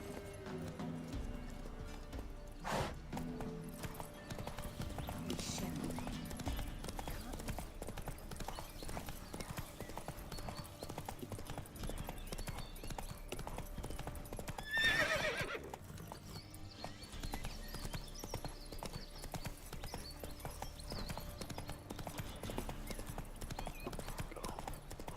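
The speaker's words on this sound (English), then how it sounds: "Come on, Roach, get your horsey butt over here." Roach, Geralt's horse in The Witcher 3 video game, trots with steady close hoof clip-clops and gives a neigh partway through, with game ambience and occasional faint speech beneath.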